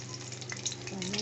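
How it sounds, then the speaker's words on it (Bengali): Besan-battered pieces fry in hot oil, a steady close sizzle with light crackle running through the whole stretch, with no talk over it. "এখন এইভাবে ভেজে নিতে হবে লাল লাল করে"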